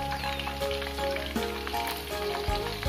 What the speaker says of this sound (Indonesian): Ini ikan tongkolnya saya goreng seperti ini aja ya